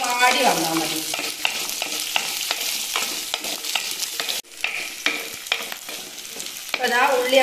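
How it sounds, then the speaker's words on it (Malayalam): Onions, garlic and curry leaves sauté in a pan for Tamil-style sundakkai puli kuzhambu, sizzling steadily while a spoon stirs and scrapes in repeated strokes, close and fairly loud, with no talking. "പിന്നെ ഇതിന്റെ കൂടെ കുറച്ച് കറിവേപ്പിലയും കൂടി ഇട്ടിട്ട് നന്നായിട്ടൊന്ന് വഴറ്റിയെടുക്കാം"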